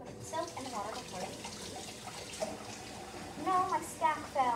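Tap water runs into a sink during handwashing with soap, a steady close splashing flow with people talking over it throughout.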